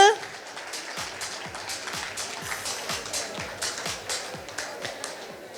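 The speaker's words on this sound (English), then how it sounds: "Let's give a round of applause for all these ladies." Audience applause for a group of senior women dancers after a Garba performance at an International Women's Day gala, a steady patter of many hands clapping throughout, moderately loud in a large hall with some voices mixed in.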